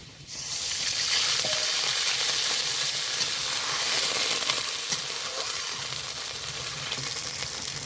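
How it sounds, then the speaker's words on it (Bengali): Water hits fried onions in a hot pan, and a loud, steady sizzle and hiss swell up quickly and then hold for several seconds with faint stirring scrapes. "এবার আমি ভাজা পেঁয়াজে একটু জল দিয়ে দেব"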